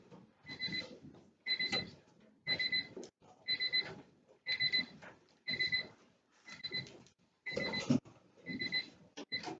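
An electronic alarm beeps in regular bursts, about ten evenly spaced pulses of shrill tone, fairly close and clear.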